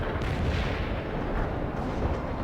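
Anti-tank strike explosions in the World in Conflict video game, a continuous dense rumble of blasts and booms filling the scene at steady loudness with no clear pauses.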